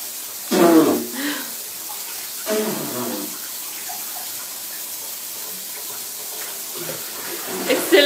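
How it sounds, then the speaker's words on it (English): A shower left running in a bathroom hisses steadily in the background while people speak and clear their throats in short bursts over the continuous spray. "The shower is still on."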